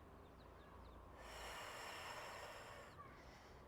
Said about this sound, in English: Maybe you're hearing my breath